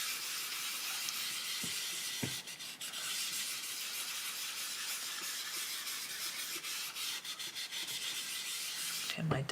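Coloured pencil being blended on paper at a desk, a steady close scratchy rubbing that runs throughout with a few small knocks from the desk wobbling.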